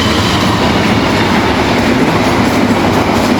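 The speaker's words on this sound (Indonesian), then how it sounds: "ini kereta api yang lewat" Passenger train rolling past close behind an outdoor spot, a loud steady rumble of wheels and rail clatter filling the whole stretch without a break, with no talking over it.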